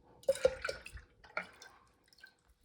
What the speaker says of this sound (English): pour it into your brewing vessel.